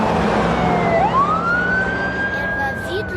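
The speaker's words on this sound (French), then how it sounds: "Elle va vite, l'ambulance." An ambulance siren wailing as it speeds past, a rising and sweeping tone over steady road and engine rumble heard from inside a moving car, fairly loud and close.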